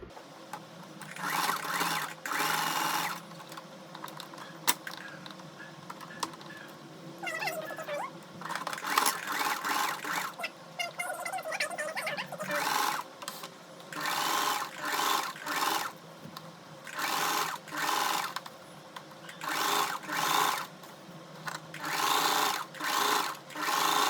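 A sewing machine stitches a deep-neck blouse, running in many short, close bursts of rapid needle clatter with brief pauses and faint fabric handling between them.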